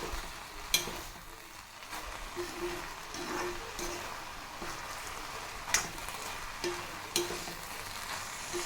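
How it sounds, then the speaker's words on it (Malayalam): Banana stem and horse gram thoran being stirred in a pan, a steady soft sizzle with scraping spoon strokes and a few sharper clinks against the metal, no voices. "ഇത് നന്നായിട്ട് ഇളക്കി കൊടുക്കാം, അടിയിൽ പിടിക്കരുത്"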